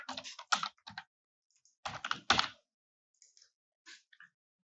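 Typing on a computer keyboard while entering a brand name into an Amazon product listing, short bursts of clustered key clicks separated by pauses, close and fairly quiet.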